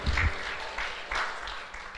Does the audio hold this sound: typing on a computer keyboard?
no